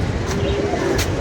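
Domestic pigeons cooing in a loft, a low steady murmur with brief soft bursts, continuous and fairly close with no talking.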